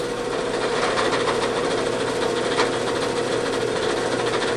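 A drill whines steadily at close range, boring through a hunting knife blade and handle, a continuous high mechanical grinding with slight fluctuations and no talking.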